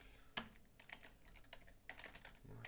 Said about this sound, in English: my typing is terrible on YouTube.